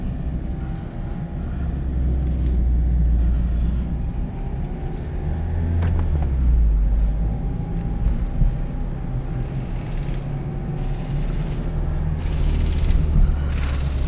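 A 2021 Mazda MX-5 Miata with manual gearbox cruises with windows down, wind buffeting and low road rumble filling the cabin in a steady, heavy roar with slight engine pitch shifts.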